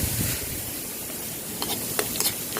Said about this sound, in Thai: ใส่กระเทียมเข้าไปเลย